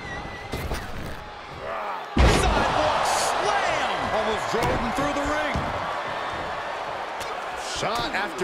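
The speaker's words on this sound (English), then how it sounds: "Uh-oh. Choke slam." A heavy chokeslam body impact on the mat in a WWE wrestling video game with Roman Reigns and Randy Orton: several thuds, then one loud slam with a ringing tail, set against crowd noise and commentary.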